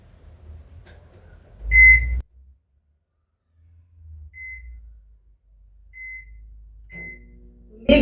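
A microwave oven gives one loud beep when it is plugged in, and several quieter beeps follow as a 10-minute time is keyed in. A low hum starts as the oven begins running.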